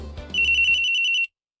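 A phone rings in the Phoenix Wright: Ace Attorney video game, a bright electronic trill pulsing rapidly for about a second before stopping abruptly into silence.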